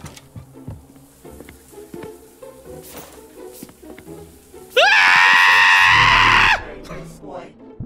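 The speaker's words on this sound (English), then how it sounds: "See, you gotta scream for stairs." A person lets out a long, loud, sustained scream while climbing stairs in a cleaning video game, rising abruptly above busy background game sounds and footsteps.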